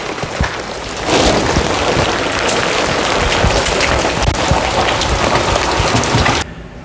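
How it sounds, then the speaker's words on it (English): Heavy rain pours down steadily and loudly as a dense, hissing roar, then cuts off abruptly near the end. "As you can see, holy crap, it's pouring."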